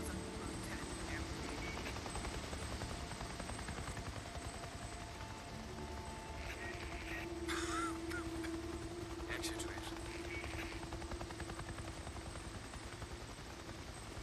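Helicopter in the video game Days Gone, a steady rotor drone held throughout at moderate level, with brief sharper noises partway through over a dense game soundscape.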